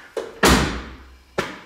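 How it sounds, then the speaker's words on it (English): A car door on a 2021 Charger Magnum Hellcat station wagon is shut firmly, a loud, solid thud with a deep low boom, preceded by a lighter knock and followed by another softer thump. "and this door shuts really nice"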